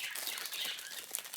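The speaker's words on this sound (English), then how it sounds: "I am so sorry about the birds." Pet birds indoors keep up a steady stream of high, faint chirping and twittering, with light flutters mixed in and no voices.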